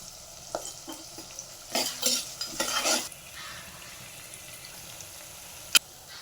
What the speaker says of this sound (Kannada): ಈರುಳ್ಳಿ ಫ್ರೈ ಆಗೋದಕ್ಕೆ ಒಂದು ಚೂರು ಉಪ್ಪು ಹಾಕ್ಕೊಂಡಿದ್ದೀನಿ.